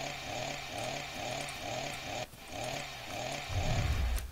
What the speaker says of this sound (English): Time for the chainsaw hands